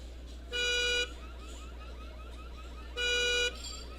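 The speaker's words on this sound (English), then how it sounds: "Car alarms going off at night." Car alarm going off at night, two short loud tonal blasts about two and a half seconds apart, with a chirping warble between them over a steady low hum.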